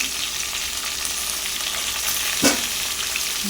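Drumstick pieces sizzle in a pan for a South Indian stir-fry, a steady hiss of frying with one sharp scrape or knock of the stirring spoon near the end.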